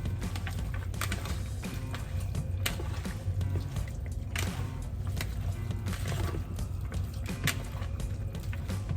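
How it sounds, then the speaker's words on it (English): Hands being washed under a running tap, a steady close rush of water with small splashes and clicks that continues without pause and without any talking. "Always wash your hands, guys."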